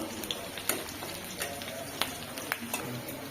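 Bay leaves and cumin seeds hit hot oil in a Bengali village kitchen, giving a close, bright crackling sizzle dotted with small pops and stirring taps throughout.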